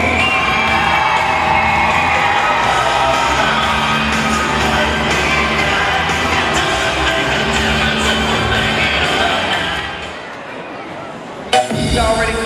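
A dense, loud crowd at a cheerleading event roars and cheers with shouts and whoops throughout, fading briefly near the end before a sharp burst.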